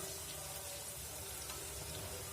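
Food frying in hot oil while dinner is cooked at home, giving a faint, steady, even sizzle with a soft watery hiss and no voices.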